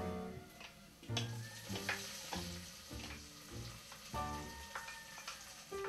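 Green peppers and garlic fry with softened onions and a bay leaf for black beans and rice, a soft steady sizzle with light stirring beneath prominent melodic background music.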